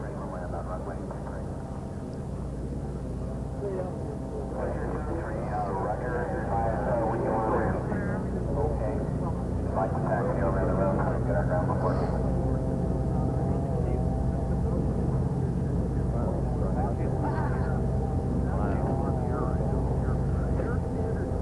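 The Voyager aircraft on its landing approach in December 1986, a steady low engine drone and broad rumble that holds throughout, heard from a distance with faint talk mixed underneath.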